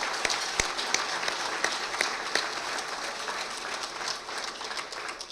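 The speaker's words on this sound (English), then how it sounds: "a big round of applause for Newport Beach Country Club for hosting" Applause from a dinner crowd at a golf association banquet in a country club, steady clapping with sharp individual claps standing out, lasting several seconds.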